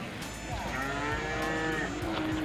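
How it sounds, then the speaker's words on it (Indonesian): A cow lets out a long, loud moo close by at a livestock market where cattle are being weighed, with a busy crowded background of other animals and activity. "Tuh, ada sapi yang lagi ditimbang."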